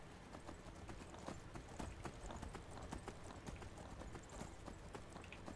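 Shadowmere the horse galloping in Skyrim, a quick rhythmic run of hoofbeats pounding steadily and close for several seconds with no talk.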